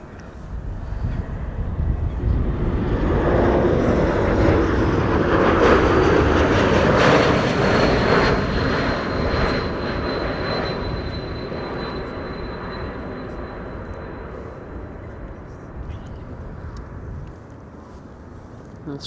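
A jet airliner arriving at Amsterdam Schiphol Airport, heard up close as a loud, broad engine roar that swells to a peak and then slowly fades over about twenty seconds, with a faint high whine trailing through it.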